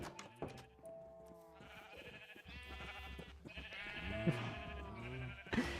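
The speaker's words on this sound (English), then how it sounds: "Yeah, sheep sounds." Minecraft sheep bleating repeatedly in overlapping calls, several animals close by, with a soft background hum.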